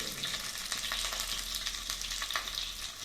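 Onions fry in hot oil in a bowl for a capsicum chicken masala tempering, a loud dense crackling sizzle with close popping and scraping stirs, continuous and without voices.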